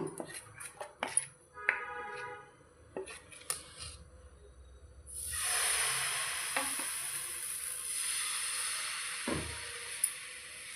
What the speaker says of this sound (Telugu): ఇలా మంచిగా మొత్తం ఆయిల్ని స్ప్రెడ్ చేసి ఇప్పుడైతే దోశ అయితే వేసుకున్నాము